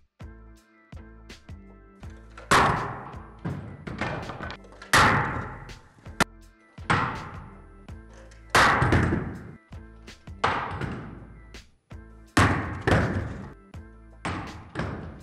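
A 1.56-ounce drill bit repeatedly dropped onto safety spectacles in an impact penetration test, giving a series of sharp separate thuds and clatters spaced a couple of seconds apart, close and clear with no speech.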